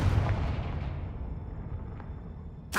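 The Confringo fire spell explodes in the video game Hogwarts Legacy as a loud, booming blast that slowly dies away, then a second sharp burst hits at the very end.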